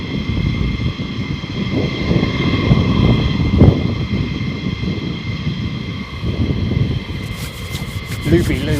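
An aircraft passes over RAF Lakenheath, a steady broadband engine roar holding for several seconds with a brief louder swell midway, heard under the voice of someone talking.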